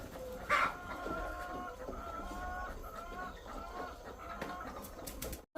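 Chickens cluck continuously on a large chicken farm, a dense, moderately faint chorus of many birds with scattered sharper calls, heard without any talk.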